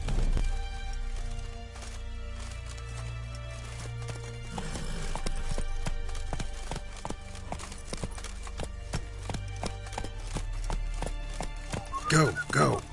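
Roach the horse from The Witcher 3 video game, hooves clip-clopping in a steady run under game music, with a sharp burst near the end.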